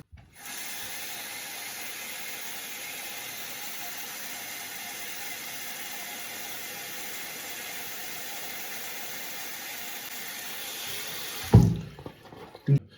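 A tap runs steadily as water fills a plastic bag for a toilet cistern water-saving kit, a constant close hiss lasting about eleven seconds before the flow stops with a few handling knocks.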